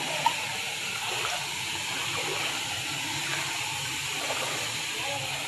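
A waterfall and stream at Busay in Pinamungajan send up a constant broadband rush of flowing water, steady and fairly loud throughout with a single small knock near the start.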